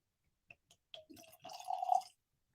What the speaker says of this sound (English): going for another pour here